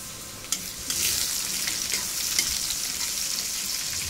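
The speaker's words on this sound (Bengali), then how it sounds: "ডাল বাগার দিয়ে ফেলাবে এখন" Dal being tempered in hot oil in a home kitchen, a steady close sizzle and crackle with a few sharp pops, no talking.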